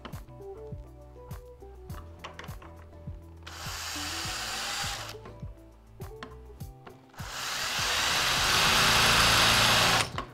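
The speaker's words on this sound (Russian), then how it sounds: "сам корпус замка очень легко поддается сверлению" A drill bores into the body of a lever lock in two bursts of loud grinding whine, separated by clicks and handling taps, the second burst longer and harsher.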